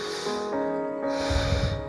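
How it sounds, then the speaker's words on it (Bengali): A single deep breath is drawn in and released, close and fairly loud, with a soft airy rush over about two seconds. "একটি দীর্ঘশ্বাস নিন"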